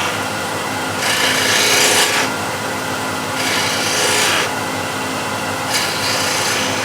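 A wood turning tool works a spindle on a lathe, rolling a bead: steady scraping, rasping cuts with three louder bursts of chip noise over the constant whir of the turning wood, close up and with no talk.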